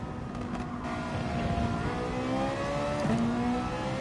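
Race car engines in the driving game Gran Turismo Sport whine and rev steadily, with pitch shifting as gears change and other cars drone nearby, heard without speech.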